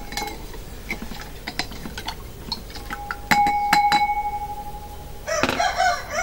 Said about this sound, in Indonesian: Nah, kita aduk lagi teman-teman.